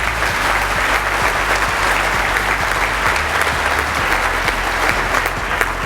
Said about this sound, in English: That wasn't meant to be an applause line, but I will take it.